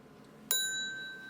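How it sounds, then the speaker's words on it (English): A single clear bell strike rings out from a steampunk time zone clock, a sharp metallic hit that decays slowly with a sustained ring in a quiet room. "And this one also has a bell, so it can have a passing strike or a counted strike or no strike."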